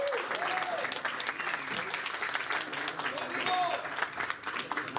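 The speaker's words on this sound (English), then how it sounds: "a round of applause for a fantastic performance from Dimitri Bivol" Applause at a boxing press conference honoring WBA light heavyweight champion Dimitri Bivol after his win, a steady dense clatter of clapping across the room, with scattered voices and chatter mixed in under it.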